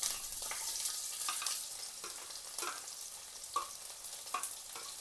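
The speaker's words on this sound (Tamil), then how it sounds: "இந்த வெங்காயம் கொஞ்சம் வதங்கி வரட்டும்" Onions sautéing in a pan with curry leaves for a capsicum curry, making a soft steady sizzle under rhythmic stirring scrapes that repeat roughly every second.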